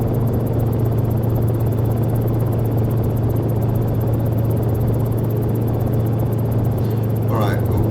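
Helicopter rotor drone from a VSkyLabs Cicare 8 in the X-Plane 11 flight simulator, a low, steady thrumming hum and broad whirring noise throughout, and a brief higher rising whine near the end.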